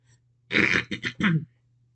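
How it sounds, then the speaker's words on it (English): A throat being cleared in several rough, forceful bursts, close and loud, with a low steady hum underneath. "Sorry, I had to clear my throat so much"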